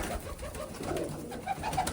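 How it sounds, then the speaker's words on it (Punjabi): Soft, low pigeon coos repeat several times close by, gentle throaty calls over a quiet background. "ਕਬੂਤਰ ਹੈ ਨਾ ਉਹ"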